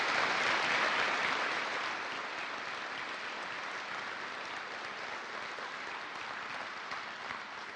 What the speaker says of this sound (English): Please, can we have a round of applause for all these people who made this possible today?